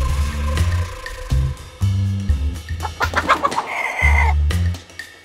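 Chickens in a toy train's chicken truck cluck loudly and close, in choppy repeated bursts with a few higher squawks in between, alone without talk.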